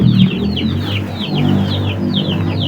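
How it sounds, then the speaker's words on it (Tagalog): Gamecocks with trimmed feathers cluck in short, repeated chirping bursts on a rainy day, fairly near and steady over a low, constant background rumble, with no talk. "Ito mga manok putol, mga panabong to."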